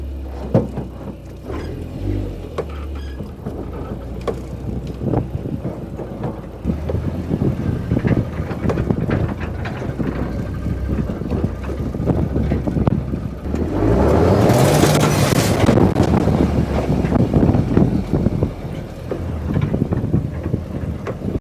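A VW Golf MK2 fitted with a swapped 1.8T turbo engine idles steadily close to the microphone, with a rush of wind or fan noise swelling midway through. Nobody speaks.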